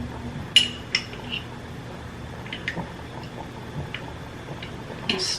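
A spoon stirs regular, non-spicy chili oil into a bowl of ramen, making faint, scattered clinks and soft ticks against the bowl, spaced irregularly over a quiet background.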